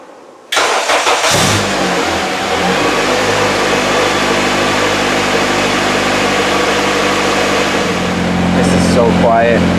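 2006 Honda Civic Si with a K-series swap and a 3-inch Rev9 V-band catback exhaust fires up after a brief silence, then settles into a loud, steady idle that swells slightly near the end, with talk faintly mixed in.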